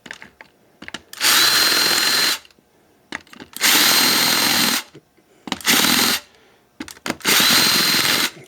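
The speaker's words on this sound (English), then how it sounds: "And back to our countersink bit." A power drill with a countersink bit whirs in four short bursts of about a second each, separated by quiet pauses with small clicks and handling noises.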